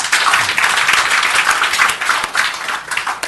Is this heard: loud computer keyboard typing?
no